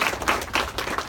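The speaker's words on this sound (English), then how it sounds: "So give Bea a round of applause." Faint, brief applause from a small crowd at a thrift store ribbon-cutting ceremony, with a few pulses of clapping and no voices.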